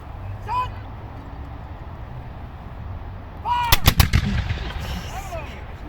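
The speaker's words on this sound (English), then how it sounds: "they've loaded one shot. So they are going to fire, guys." A volley of flintlock muskets fired at a historic battle reenactment at Fort York military site in Toronto: several loud, sharp reports crack in quick succession after a quiet stretch of outdoor ambience, with faint voices around.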